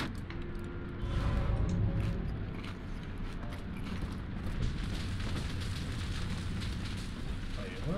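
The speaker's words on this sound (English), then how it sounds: "Just a big old grease fire." A big grease fire roars in a kitchen in Bioshock 2, a steady low rumbling burn with crackling texture that swells early and keeps going, as a voice talks over it.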